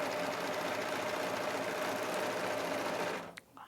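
A Husqvarna Viking Amber S100 serger stitches a 3-thread rolled hem in a fast, steady, loud mechanical whir lasting about three seconds, then stops with a couple of soft clicks.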